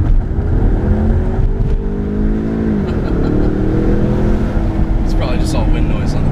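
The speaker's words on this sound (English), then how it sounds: "Let's do some revs right here so you can see how turbocharged it is." A turbocharged 2015 Ford Mustang EcoBoost Premium automatic revs loudly, the engine tone rising and falling in sustained sweeps with heavy wind and road noise, heard from inside the car.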